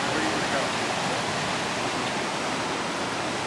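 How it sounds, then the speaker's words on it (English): Small waterfall at Creek Street in Ketchikan, Alaska, a steady broadband rush of falling water, close and continuous without pauses. "It's this nice waterfall."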